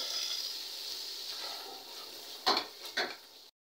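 Spinach and boiled soya chunks tipped into a pan of fried masala and stirred, a soft steady sizzle followed by two sharp metallic clatters of spoon against the pan near the end.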